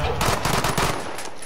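Rapid automatic gunfire crackles in a dense burst in the video game Call of Duty: Modern Warfare, loud and close, lasting about a second before trailing off into echoing noise.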